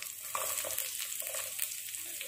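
Onions sizzle close up in a hot pan with ginger, a dense, even hiss with slight crackles throughout, no voices.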